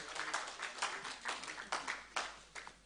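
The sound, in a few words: audience clapping at a conference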